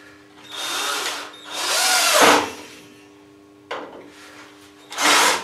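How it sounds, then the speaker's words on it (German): A power drill drives screws into a small wooden reinforcement on a bird feeder, giving several loud whirring bursts with pauses between them, then a final short burst near the end. "Damit das Ganze stabil wird, schraube ich hier eine kleine Verstärkung ein."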